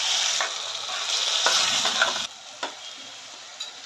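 Marinated chicken for Patiala murgh hits a hot pan with a loud, close sizzle and some stirring. The sizzle fades sharply partway through, leaving a quieter hiss and a few scraping knocks.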